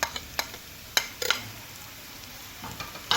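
Onion frying in a pan with ginger garlic paste, giving a steady soft sizzle broken by several sharp clicks and scrapes of a spoon stirring against the pan, close and alone with no voices.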